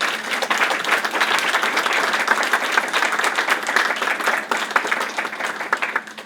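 An audience gives a round of applause to representatives being thanked at an event, with steady, dense clapping that holds loud and even throughout.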